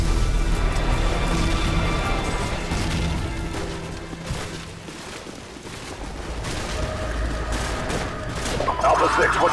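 Heavy gunfire in Call of Duty 4: Modern Warfare, near an overpass: sustained volleys of rifle and machine-gun fire with scattered crashes and booms, loud and continuous, while voices shout underneath.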